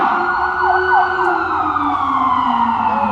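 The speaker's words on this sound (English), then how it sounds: "Those ambulances have air horns now." An ambulance on a Manhattan street in New York City wails with a loud, sweeping siren, mixed with blasts of its air horn, passing close by with no one talking.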